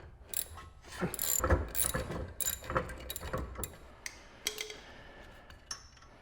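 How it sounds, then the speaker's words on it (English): Ratchet wrench clicking in quick bursts while bolts are backed out on the rear brake of an Acura TL from the 2004–08 generation, with metallic tool clatter between the close, fairly loud runs of ticks. "So I'll take the bolts back off."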